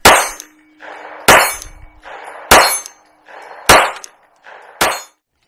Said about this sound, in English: Let's run five through it.